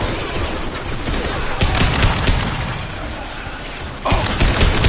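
Gunfire from the Mass Effect 2 video game, dense sustained bursts of rapid shots and crackling impacts, loud and continuous with brief surges.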